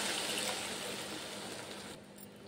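Water pours steadily into tamarind masala curry in a pan, giving a continuous splashing rush that eases and thins out near the end.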